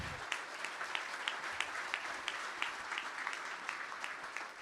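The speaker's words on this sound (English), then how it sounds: "Let's give him a round of applause" An audience at a startup pitch competition applauds for an investment judge, a steady mid-distance wash of clapping with a few sharper individual claps standing out, fairly quiet throughout.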